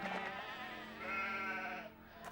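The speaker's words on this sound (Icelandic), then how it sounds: "Ósköp venjulegar kindur." Ordinary sheep bleat close by in one sustained, wavering call that fades out at the end.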